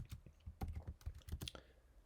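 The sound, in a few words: typing on a computer keyboard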